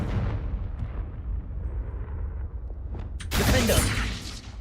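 A Confringo fire spell explodes in Hogwarts Legacy, a sudden loud whooshing burst erupting over a dense, continuous rumble of game sound and lingering for about a second.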